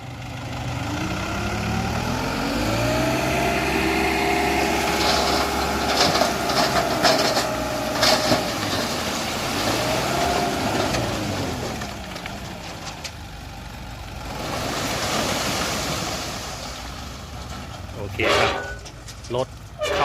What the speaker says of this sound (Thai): เดี๋ยวใช้รถไถดันเข้าไป